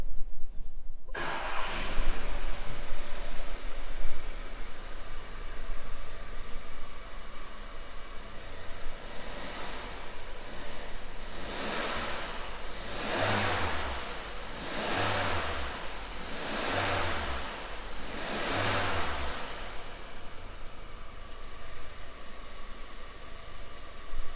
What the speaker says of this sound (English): I'll just start the vehicle up.